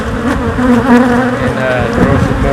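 Honey bees swarm and buzz loudly around an open hive being readied for honey extraction and splitting, a dense steady drone close by with little else over it.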